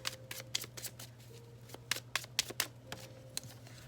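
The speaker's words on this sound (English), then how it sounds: "This is why I don't like shuffling on camera." Tarot cards being shuffled by hand during a full moon reading, a run of crisp riffling bursts and soft slaps in irregular rhythm, close and moderately loud over a steady low hum, with no talk.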